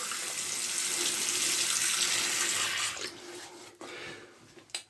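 Tap water runs steadily into a sink while a face is wetted before a shave, a close hiss that tapers off and breaks into splashes near the end.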